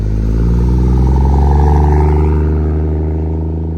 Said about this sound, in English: You want to try to do a burnout?